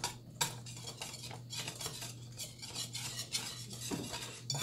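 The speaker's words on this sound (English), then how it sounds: "And we're going to whisk." Chocolate pie filling is whisked in a bowl with quick, steady metallic scraping and clinking. A low hum sits under it and no one speaks.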